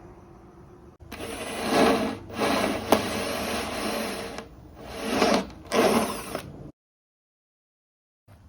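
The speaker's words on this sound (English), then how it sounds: "Just going to cut it out with a jigsaw." Jigsaw cutting a panel for a Cruise Craft 585 XL boat seat box, close and loud in several bursts of buzzing blade chatter separated by short pauses, then stopping into silence.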